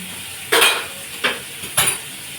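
Prawns and vegetables hit a hot pan in a home kitchen, with three short bursts of stirring and sizzling against a quiet background, each loud scrape fading quickly.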